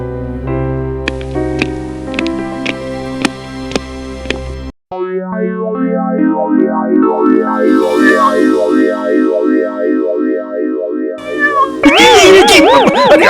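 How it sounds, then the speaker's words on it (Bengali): A cartoon cat in an animated Gopal Bhar episode set in a vegetable market meows loudly and insistently. The long, wavering, processed-sounding cries rise and fall, ending in shrill, warbling wails. "ম্যাও ম্যাওয়ের মনে হয় খুব জোর খিদে পেয়েছে, তাই এমন করছে।"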